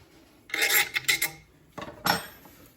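A 1/2-inch wrench snugs a nut tight while setting up a Raytech TV-10 vibratory tumbler, giving two short bursts of close metallic rasping and scraping separated by a brief pause.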